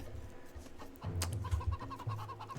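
Chickens cluck in a real-time strategy game, Age of Empires II on the Arabia map, with short repeated clucks over a steady game soundscape, moderately loud and without speech.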